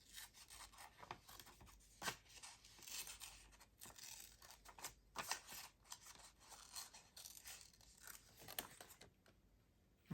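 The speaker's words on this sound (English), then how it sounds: "I do simplify it a bit by snipping off bits that I won't miss." Quiet, close scissors snipping paper ephemera in a series of short irregular cuts with faint rustling of the paper in between, no voices.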